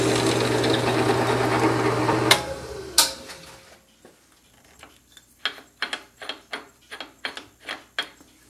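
A drill bit bores through a translucent pen blank with a dense, grinding whir for about two seconds before stopping. A few sharp knocks follow, then a run of quick, light mechanical clicks.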